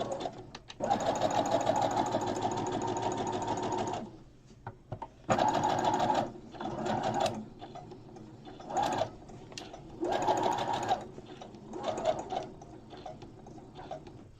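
A sewing machine stitching around the neckline of a doll dress, several bursts of rapid buzzing needle runs separated by short pauses and lighter taps, close and loud with no talking.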